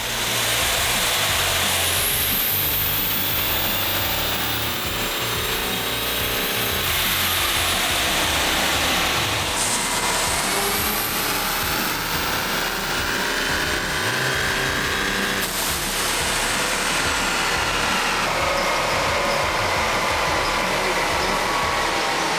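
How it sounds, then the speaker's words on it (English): A diesel daily-driver car runs flat out on a chassis dyno, its engine and turbo roaring loud and steady with rising whine sweeps through two pulls, and no one talks. "we're now ready for another dyno pull."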